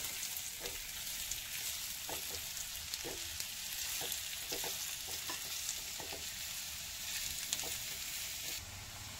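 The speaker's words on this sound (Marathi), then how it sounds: "याला असा चम्मच फिरवत राहायचं, थोडा वेळ तेलामध्ये फ्राय करायचं" Raw papaya pieces fry in oil while a spoon stirs them. A soft, continuous sizzle runs underneath, and regular scraping taps from the spoon recur every half second or so.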